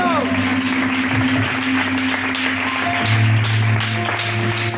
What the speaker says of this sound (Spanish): aplaude al Señor, aplaude al Señor